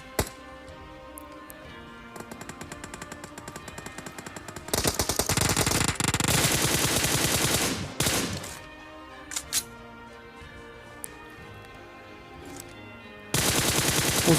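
Automatic and single-shot gunfire from PUBG Mobile gameplay, with loud sustained bursts between about 5 and 8 seconds and again at the end, plus scattered shots and clinks in between, with no talking.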